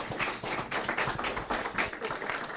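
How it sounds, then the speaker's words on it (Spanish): Audience applause after a mathematics talk, a steady patter of many hands clapping at moderate volume for a few seconds, with no voices. "Un aplauso."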